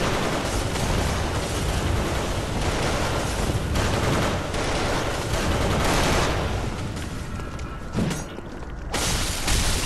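Gunfire from a swarm of enemies in Bloodborne, a dense, continuous barrage of shots and blasts that stays loud throughout, briefly dipping near the end before resuming.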